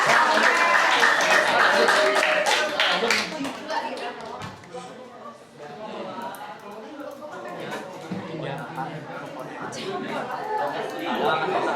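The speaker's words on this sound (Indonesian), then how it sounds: "Berikan tepuk tangan dulu ke pemenangnya." Students clap for the winning group in a classroom, the applause strongest at the start, then thinning into scattered claps and chatter as voices talk over the room.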